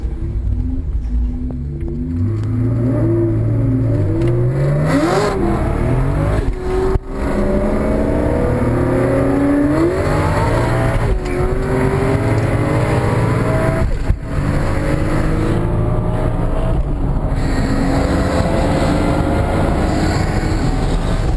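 A 900+ hp turbocharged Toyota Supra accelerates hard, its engine note climbing in repeated rising sweeps through the gears, loud and close with no talking.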